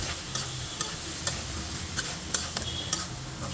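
Jackfruit seeds with prawns and potato are stirred in a pan, a soft frying sizzle underneath a series of light, evenly spaced clicks and scrapes from the spoon, close and moderately quiet.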